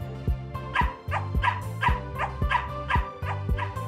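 A small dog in a pet cafe video game yips and barks in a quick rhythmic run of about eight sharp barks, close and clear with no talking.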